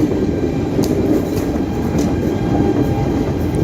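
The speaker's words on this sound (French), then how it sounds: "Maintenant, on regarde le RER-NG, le son qu'il a." An RER NG commuter train rolls past with a dense, steady rumble of wheels and traction motors, loud and close throughout, with faint high whines riding over the continuous roar.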